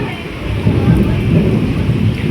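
Heavy rain pours steadily with a deep low rumble of thunder rolling underneath, loud and continuous throughout.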